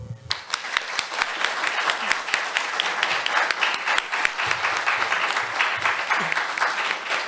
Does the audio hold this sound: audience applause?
yes